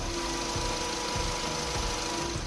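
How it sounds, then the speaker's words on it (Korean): A 2017 Renault Samsung SM7 LPG sedan idles with its hood open, a steady, quiet engine hum heard up close with a faint regular ticking pulse and no other sounds. "밖으로 나가서 엔진 소음 한번 담아보도록 하겠습니다."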